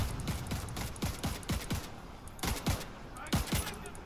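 Rapid bursts of gunfire from enemies in the video game Division 2, sharp repeated shots in quick clusters with brief pauses, loud and close.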